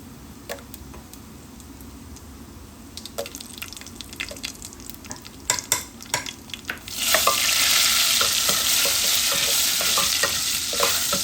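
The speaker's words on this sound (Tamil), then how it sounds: "இதில் இப்போ நம்ம காஞ்ச மிளகாவை போட்டுருவோம்." Dried red chillies drop into hot oil and break into a loud, steady frying sizzle after a few seconds of scattered stirring clicks and small pops, with no talking.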